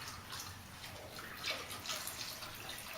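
Water pours steadily into a mash pot holding sugar and water for home brewing, a continuous splashing hiss with slight surges, close by and without talking.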